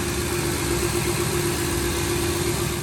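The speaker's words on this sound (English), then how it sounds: "it's really cool to see the turbo spin without the intake tube on" A turbocharged car engine runs steadily with its intake tube removed, giving a loud, constant mechanical drone with a strong low hum and airy turbo hiss, close by and alone without voices.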